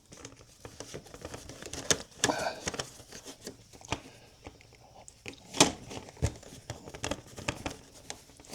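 Foam strip being torn by hand while fitting window brackets, with crinkly ripping bursts near 2 and 5.5 seconds amid scattered crackling handling noise, fairly quiet overall.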